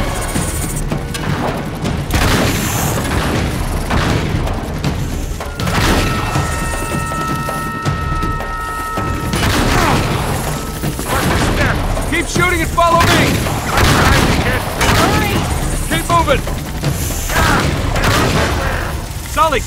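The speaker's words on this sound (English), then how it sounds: "Keep shooting!" Gunfire in the video game Uncharted 3, with repeated loud shots and bursts mixed with booms and crashes, characters shouting over the chaotic firefight throughout.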